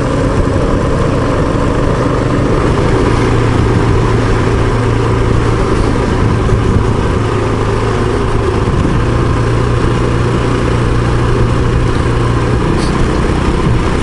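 A Honda CRF450L motorcycle is ridden down rocky switchbacks in Copper Canyon toward Batopilas, its engine a steady, loud drone mixed with constant wind rush throughout, with no talking.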